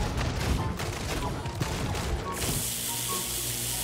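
Gunfire in the Jurassic Monster World game, a rapid close burst of shots and impacts that cuts off partway through, leaving a hissing background.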